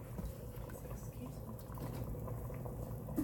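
Dumplings made from self-rising flour drop one after another into a simmering pot of chicken and dumplings, giving a steady bubbling and soft liquid patter close by with no voices.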